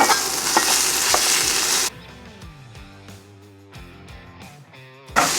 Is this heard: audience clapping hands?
no